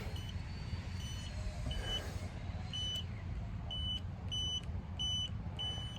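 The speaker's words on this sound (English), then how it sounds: "Let me hit my pen on my keypad here" A pen taps a gate keypad outdoors, and the keypad answers with a series of short, clear electronic beeps at a steady pace, heard against a constant low outdoor rumble like distant traffic.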